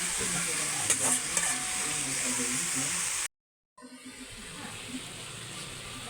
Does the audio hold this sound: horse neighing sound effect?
no